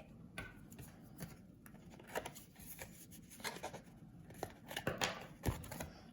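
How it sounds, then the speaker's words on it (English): Scissors snip through washi tape as a postcard is decorated, making a series of faint, close, crisp cuts spaced unevenly over several seconds, with no talking. "you're shuddering that I'm using scissors rather than just tearing it"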